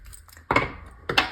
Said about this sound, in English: So let's see. Let's have a shuffle